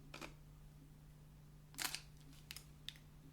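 A camera shutter clicks several times close by while someone photographs a wristwatch, with sharp, separate snaps spaced irregularly over a steady low hum and no talking.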